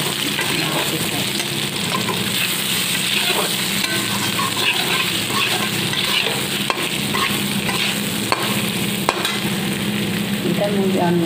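Bata fish with salt and turmeric being stirred in a frying pan, a loud dense sizzle running throughout with occasional scraping clicks of the spatula, close up.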